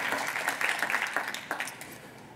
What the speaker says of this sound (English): if I can get a big round of applause for both Bryan and Richard